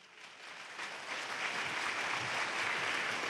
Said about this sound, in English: So let's give a round of warm applause for Mr. Klaus Dona